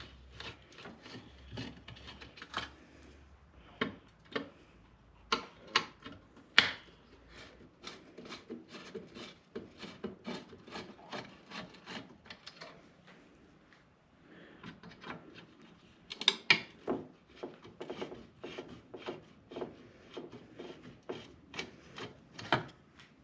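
Three small screws are removed with quiet, close ticking and scraping clicks that come in irregular clusters, and there is a brief pause midway.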